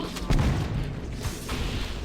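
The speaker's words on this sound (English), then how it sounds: "any explosion of a carrier form creates a sympathetic detonation of any explosives nearby, including grenades" In Halo: Combat Evolved, an exploding carrier form sets off nearby grenades, producing a sudden deep boom early on that leaves a rumbling, noisy tail of lesser blasts.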